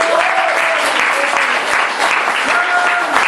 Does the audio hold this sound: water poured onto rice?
no